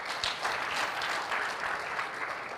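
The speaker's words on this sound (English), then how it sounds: "Can't we clap for that?" A steady burst of audience clapping at a youth forum in Kigali fills the hall, dense and even throughout with no talking over it.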